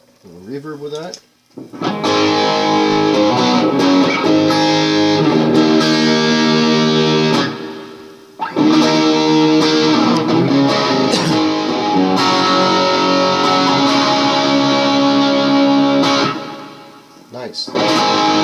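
An electric guitar runs through distortion into a TC Electronic Hall of Fame Mini reverb pedal, playing loud, dense sustained chords in two long phrases with a short gap between, each tail washing out into reverb before fading.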